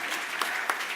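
Clapping from a theatre audience after actors perform scenes on stage, a dense, steady burst of many hands close by, with no talk over it.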